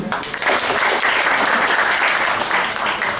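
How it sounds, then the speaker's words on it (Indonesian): Audience applause at a motivational talk by Andrie Wongso, a dense steady clapping that fills the room for about three seconds with no voices over it. "Baik, tepuk tangan dulu."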